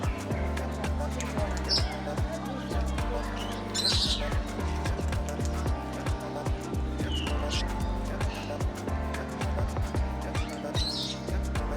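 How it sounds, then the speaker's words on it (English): Scattered bird chirps and squawks ring out now and then over a busy background of thumps, chatter and crowd noise. "Birds over here."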